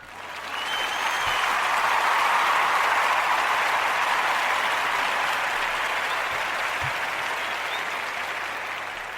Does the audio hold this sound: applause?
yes